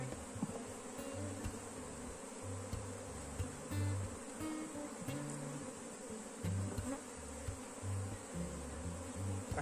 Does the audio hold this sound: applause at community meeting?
no